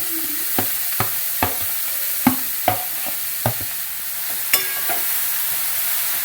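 Grated carrot frying in ghee for carrot halwa, with a steady sizzle and a spatula scraping the pan in repeated sharp strokes, up close with no talking.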